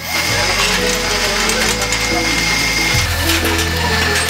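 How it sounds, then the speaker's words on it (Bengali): A motor-driven machine roasts rice into puffed rice (muri), producing a loud, continuous mechanical whir with rattling, grinding churn and shifts in pitch as it turns. "মোটরে ঘোরে মেশিন, এতে গরম হয় চাল আর তৈরি হয় মুড়ি।"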